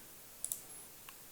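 Several faint, sharp mouse clicks in a quiet room: a close pair, then a single click, then another near the end.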